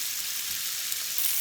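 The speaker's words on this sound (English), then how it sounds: "And they're just frying away nicely." Garlic and herb lamb chops frying in a pan, a close, steady crackling sizzle that stays even throughout, with no voices.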